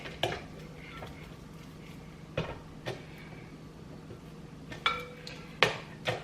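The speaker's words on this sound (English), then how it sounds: "Another scrape." A spatula scrapes around a mixing bowl of cookie dough with vanilla, giving a series of sharp scraping taps and knocks at irregular intervals, close up with a faint hum underneath.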